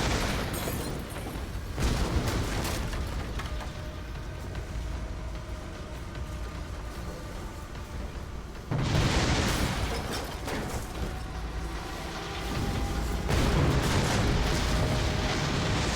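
Rumbling explosions of collapsing buildings in the Call of Cthulhu video game, with loud broadband booms bursting in around two, nine and thirteen seconds over a continuous roaring din.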